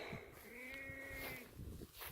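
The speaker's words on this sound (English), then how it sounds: "There's Seffi the goat there" A goat on a farmyard gives a single drawn-out bleat lasting about a second, fairly near but soft, over low outdoor background noise.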